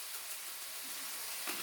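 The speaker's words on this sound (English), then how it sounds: "You can hear that sizzling up in there." Beef stew meat with parsley and rosemary sizzling in a pan over fairly high heat, a soft, steady hiss heard close up and alone for a brief moment.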